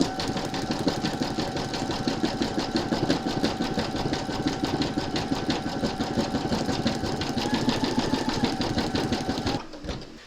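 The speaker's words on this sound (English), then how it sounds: "you're going to stitch round number 11, and that's going to zigzag along these joins and secure the two pieces together" An embroidery machine zigzag-stitches the joins of a large mermaid and dolphin appliqué with metallic thread, a rapid rhythmic needle clatter, loud and close, running steadily before stopping near the end.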